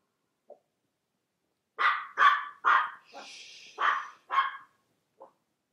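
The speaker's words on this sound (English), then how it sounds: "Sorry about my dog barking." A dog barks in a quick run of about six sharp barks, with one short yip before and another after, fairly close and alone with no talk over it, heard indoors during a Minecraft tutorial recording.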